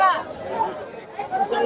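Dense crowd chatter fills a busy outdoor cattle market on the final day of a Qurbani livestock fair in Uttara Diabari, a steady babble of many overlapping voices at close range.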